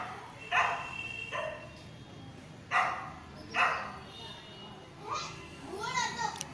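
Puppies in Vizag, India, give short, separate barks and yips at irregular intervals, moderately close, while children talk and play around them.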